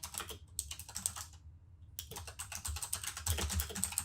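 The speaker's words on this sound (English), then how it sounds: "Sorry, I'm typing to someone right now." Fast typing on a computer keyboard, close and fairly faint, with dense clicking bursts broken by a brief pause before the keystrokes resume, and no voices.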